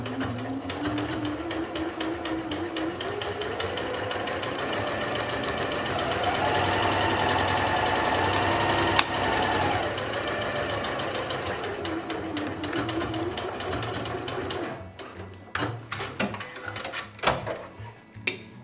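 A sewing machine runs a simple straight stitch about 1 cm in along a bias binding, a steady rapid mechanical whirr that speeds up midway and slows again, then stops with a few clicks and handling noises.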